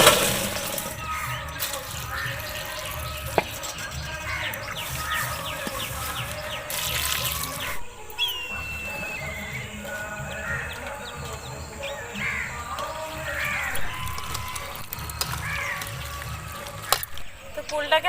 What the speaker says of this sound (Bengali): কুলটাকে ভালো করে ধুয়ে নিয়েছি, কারণ কুলের গায়ে ধুলোবালি লেগে থাকে।